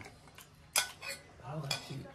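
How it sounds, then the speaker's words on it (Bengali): A small child plays with plates, bowls and spoons at home, producing a few scattered clinks and clatters with one sharper knock, faint and close, with a soft voice murmuring briefly. "ইনা ওইদিকে বাটি চামচ খাচ্ছে, ওই বাটি চামচ খেলে দাও"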